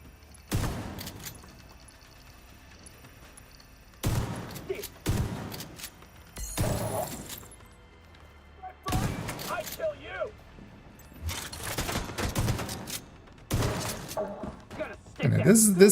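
Shotgun blasts in The Division, coming as separate loud bursts with gaps of quiet between them, and a person talks over parts of the firing.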